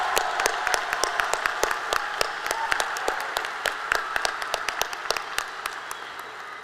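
Graduation audience at New Smyrna Beach High School applauding faculty and staff, sustained dense clapping from a large crowd with sharp individual claps standing out, steady and moderately loud, without speech.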